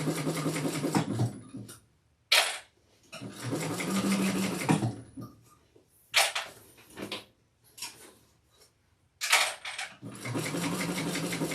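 A sewing machine stitches a crossbody handbag in several loud bursts of steady whirring, separated by short pauses and brief quiet gaps.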